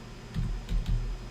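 A few quick keystrokes click on a computer keyboard during a live stream. The clicks come in two or three short close bursts, fairly soft, with no speech.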